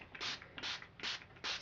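A spray bottle is pumped four times in a quick, even rhythm, each short hissing burst close and quiet.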